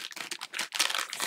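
Scissors snip and crinkle through a plastic bag sent with a mail-order crochet kit, a rapid series of close, bright crackling cuts and rustles with brief pauses, no talking over it.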